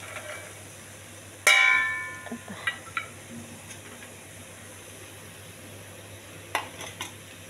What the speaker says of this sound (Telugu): గ్రీన్ పీస్ వేయాలి ఇప్పుడు